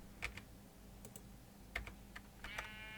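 Sparse computer keyboard typing with a handful of separate key clicks spread irregularly over a low steady hum, close and fairly quiet, no talking.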